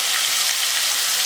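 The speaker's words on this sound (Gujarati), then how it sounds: "તો હવે આપણે શાકનો વઘાર કરીશું." Eggplant and potato pieces drop into hot oil tempered with cumin, turmeric and asafoetida, giving a loud, steady, close sizzle that holds without a break.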